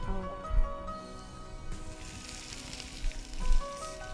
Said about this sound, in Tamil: ஏதாவது ஆனியன் நல்லா வதங்கட்டும்.